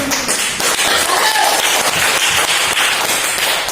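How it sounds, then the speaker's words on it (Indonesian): An elementary school class clapping hands together in a classroom, a loud, close, continuous patter of many small hands with sharp individual claps standing out throughout. "Kita tepuk tangan."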